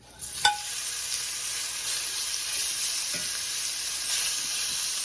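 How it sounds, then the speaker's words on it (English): Steak sizzling in a hot cast iron pan, a continuous close hiss with one sharp clink near the start and faint scraping later. "All right, so I am ready to cook my steak."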